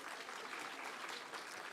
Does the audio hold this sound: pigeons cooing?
no